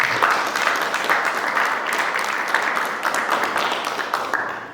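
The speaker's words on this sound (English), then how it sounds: "so thank you and applause to Ida for the big, big job." Audience applause at a conference opening ceremony in Panemune Castle, a dense, steady wash of many hands clapping close by that holds for several seconds and tapers slightly at the end.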